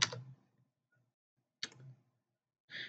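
Three short bursts of computer keyboard clicking as a command is typed, the key taps quiet and close, separated by stretches of near silence.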